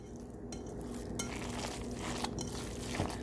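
Turkey meatloaf mixture being mixed gently by hand in a bowl, a soft, continuous squishing and stirring with faint clinks of utensils against the dish, close and steady throughout.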